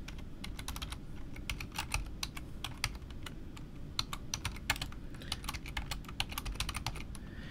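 Fingers tap quickly and unevenly on a computer keyboard, entering a login username and password in dense close-up clicks with brief pauses.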